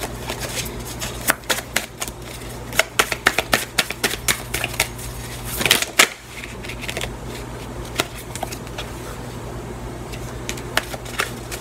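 A deck of tarot cards is shuffled and cut, producing rapid clusters of crisp card flicks and riffles with a brief louder rustle midway, close and alone over a low steady hum.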